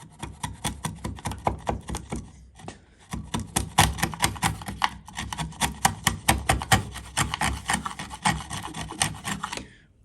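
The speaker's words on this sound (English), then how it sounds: "take the chisel and work in from the other side" A chisel pares and rasps through wood while cutting a through housing joint from the second side, a steady run of close, scraping strokes with a brief pause midway.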